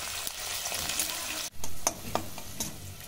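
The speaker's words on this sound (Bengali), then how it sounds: "পেঁয়াজটা খুব ভালো করে ভাজা ভাজা করে নেব।" Sliced onions fry in hot oil with bay leaf, dried red chilli and a spoonful of sugar, a steady loud sizzle broken by scraping stirs and clinks of a spatula.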